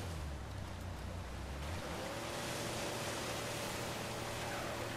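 Rushing white-water rapids in Uncharted 4, a loud, steady roar of churning water that fills the whole clip without any break.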